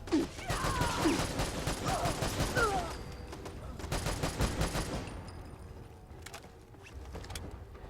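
A modded Bulldog .308 rifle fires in Fallout 4 in rapid, loud bursts of cracking shots with mechanical clatter. The fire eases into sparser, quieter reports toward the end.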